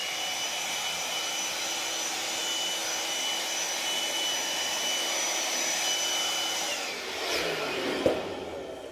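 Compressed air hisses steadily as it blows debris off a freshly cut striped part for a Crown Victoria skid plate, a loud continuous rush for about seven seconds that then fades, ending with a brief click.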